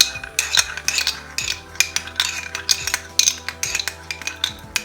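A spoon mixes onion juice in a bowl, clinking against the sides in a quick, steady rhythm of sharp strokes, close and clear with no voices.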